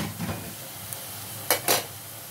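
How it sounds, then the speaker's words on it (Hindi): Spices fry with onions in a pan for chana dal, a soft steady sizzle with a couple of brief louder stirring scrapes near the end. "थोड़े से हम लोग मसाले को फ्राई करेंगे, जलने नहीं चाहिए"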